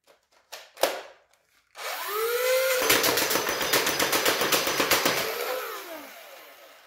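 A few clicks, then a motor whirs up and a modified Nerf blaster fires a rapid, steady burst of snapping foam-dart shots before winding down.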